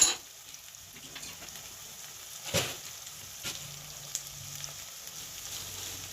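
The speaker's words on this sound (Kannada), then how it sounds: "ಆನಿಯನ್ ಹಾಕೊಂಡ್ಬಿಡೋಣ. ಚೆನ್ನಾಗಿ ಫ್ರೈ ಮಾಡ್ಕೊಳ್ಳಿ." Chopped onions, beans and carrots frying in oil in a pan for vegetable upma, a faint steady sizzle with a few soft stirring clicks and scrapes, close and quiet with no talk.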